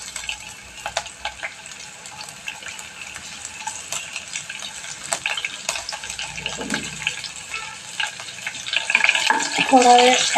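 Green chillies dropped into hot oil with bloomed cumin and mustard seeds for kanda poha, giving a steady close sizzle with stirring and wet spattering that grows louder toward the end.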